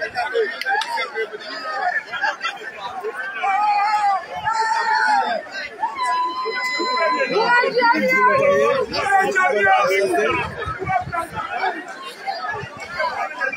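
Jubilant street crowd in Gabon celebrating alongside the army, a loud continuous babble of many voices with shouts and excited cries rising and falling close by.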